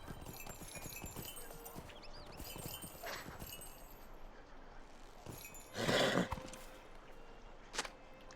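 Hooves clip-clop from a mount in a farm-themed online game, a quiet steady patter under ambient game sounds with a brief louder burst near the end.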